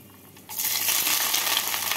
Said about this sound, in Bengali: পেঁয়াজটাকে বাদামি করে ভেজে নিচ্ছি।